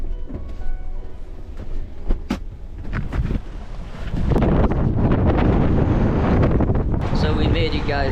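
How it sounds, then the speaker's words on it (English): Strong wind buffets the microphone outdoors on a boat at sea, a steady low roar that thickens midway and persists with occasional gusts and knocks, waves faintly beneath. "It's windy out here"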